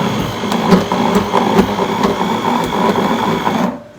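A handheld blender's motor whirs loudly and close while blending a smoothie, a steady buzzing hum with slight rhythmic pulsing that runs unbroken before cutting off abruptly at the end.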